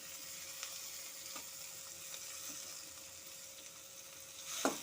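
Spiny gourd (kakrol) cooking in a pan for a Bengali kakrol bata, with a steady soft sizzle and a brief louder clatter near the end.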